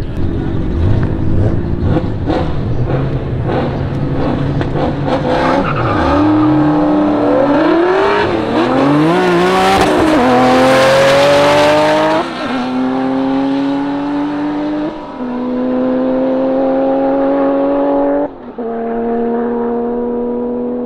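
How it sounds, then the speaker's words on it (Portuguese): A twin-turbo Porsche blasts down a half-mile drag strip at full power, its engine screaming up through gear changes in rising sweeps, swelling loud as it passes, then fading into the distance. "A, a Porsche acabou de fazer 294."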